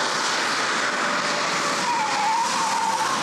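Car driven hard and skidding, a continuous broadband tire hiss and screech lasting the whole moment with a rising squeal tone toward the end, fairly loud and close, no voices.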